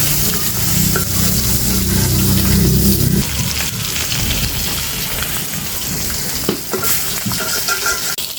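Rui fish frying in oil in a pan over a clay stove in a Bengali village kitchen, a loud dense crackling sizzle with a low rumble at first, then steady spitting and occasional clinks close up.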